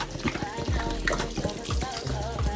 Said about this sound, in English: And you let the water cover it completely.